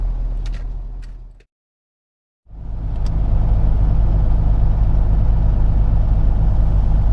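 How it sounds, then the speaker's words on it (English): A flatbed truck's diesel engine runs steadily up close, a loud constant rumble that cuts out for about a second before resuming at full strength. "I got the truck running."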